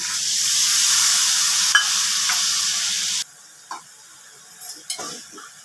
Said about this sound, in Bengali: মশলাটা আমার কষানো হয়ে গেছে, তেল ছাড়ছে, এবার ঝোলটা দিয়ে দিলাম।